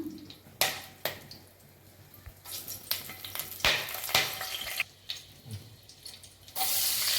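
Garam masala and bay leaf frying in a pan for tomato rice, heard as a soft steady sizzle with intermittent sharp scraping and clinking of a utensil against the pan, close and without talk.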